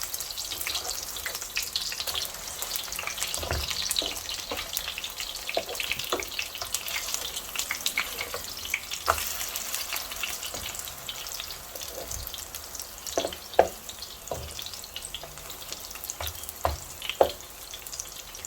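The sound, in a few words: chicken chapli kebabs frying in a pan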